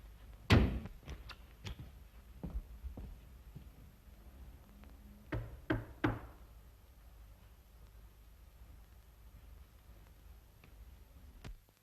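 Knocking on the door of a draper's shop in a 1933 British film: a few sharp raps near the start, another cluster of knocks midway, then faint background hiss.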